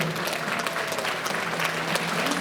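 Steady applause fills a graduation ceremony for eleventh-grade classes as the audience sends off the homeroom teachers, a dense, continuous patter of many hands with no break throughout.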